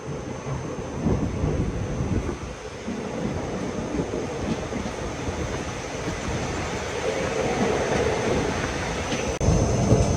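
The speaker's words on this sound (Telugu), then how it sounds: "కామారెడ్డి రైల్వే స్టేషన్ నుంచి మన ట్రైన్ అయితే బయలుదేరిపోయింది." The Ajanta Express pulls away from Kamareddy station: a steady, loud rumble of rolling wheels and carriage noise with continuous rattling, heard up close from inside the moving train with no talk.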